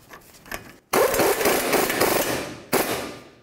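Power tool running a new nut down onto the rearward lower control arm of a 2006-2012 Ford Fusion, a loud sustained whirring burst of about two seconds after a short pause, then a second brief burst, close by with no talk.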